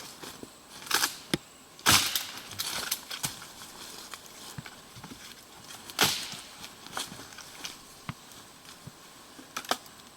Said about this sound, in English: you've got a fork in a tree, it works quite well, and you can break that into good sizes